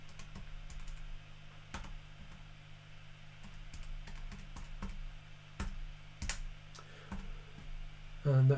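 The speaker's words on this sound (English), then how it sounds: "Type that into our calculator." Soft plastic key presses as numbers are tapped into a calculator, scattered irregular clicks heard faintly over a low steady hum, with a brief louder knock at the end.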